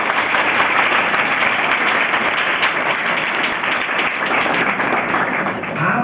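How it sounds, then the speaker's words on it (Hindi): A steady, loud burst of audience clapping in a hall during a motivational talk with students, dense and continuous throughout without pause. "सबसे पहले इनके लिए ताली बजाइए।"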